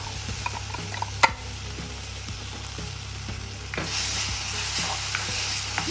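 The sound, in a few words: ginger garlic paste frying in pan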